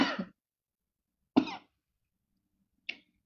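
One person coughs three times in a quiet indoor space, two fuller coughs about a second and a half apart, then a lighter, shorter one, close and soft, with no talking.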